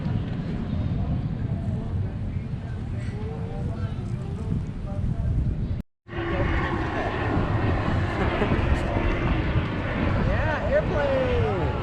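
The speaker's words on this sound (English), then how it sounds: "Yeah, airplane!" An airplane engine drones overhead in a steady low rumble, briefly cut out midway, with people talking and calling out over it at Mallory Square in Key West.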